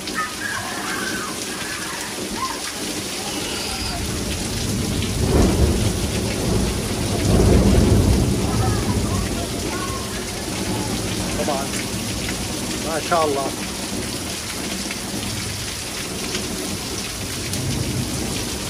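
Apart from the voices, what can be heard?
heavy thunderstorm with rain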